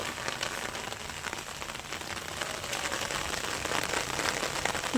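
Steady storm rain patters on a surface, a dense, even hiss of drops that holds throughout with no voices.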